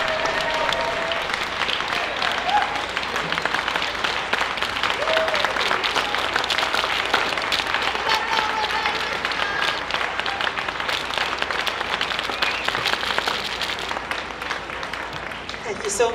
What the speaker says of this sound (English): Another round of applause for Suzuyuki-Kai School of Traditional Japanese Dance.